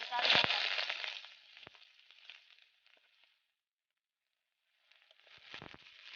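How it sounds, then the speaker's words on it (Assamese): Onions drop into hot mustard oil in a wok with a sharp, close sizzling burst that fades over a few seconds. A quiet gap follows before the crackle returns. "তেলখিনি গৰম হোৱাত পিয়াজ দিছো"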